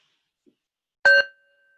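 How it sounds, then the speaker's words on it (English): A single bell strike closes a mindfulness exercise on working with pain, ringing clear and close in a quiet room and then fading into a long, soft sustained tone. "I'll ring the bell to finish."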